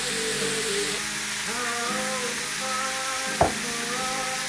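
Pork chops sizzle steadily in a frying pan, giving a continuous bright hiss with a sharp utensil clink just past the midpoint, close and fairly loud.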